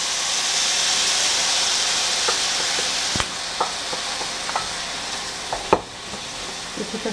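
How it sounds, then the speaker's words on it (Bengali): Onion, rice, lentils and spices sauté in a pan for bhuna khichuri, giving a steady broad sizzle broken by occasional spatula scrapes and clicks, close and moderately loud, with no talking. "কিছুটা সময় নিয়ে এটাকে আমি কষাবো।"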